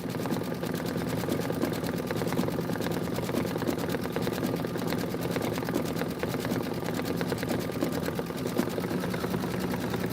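A sewing machine stitches a Kimberbell quilting project in a sewing shop, running in a quick, continuous mechanical clatter at an even pace from start to finish.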